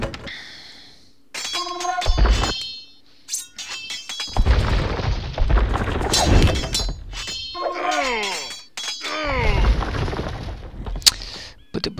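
Cannons fire and buildings crumble in Age of Empires II, a string of booming impacts with crunching debris and clinking breakage, loud and repeated over the twelve seconds, interleaved with chirpy game interface tones.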